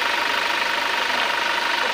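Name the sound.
Toyota Innova common rail diesel engine running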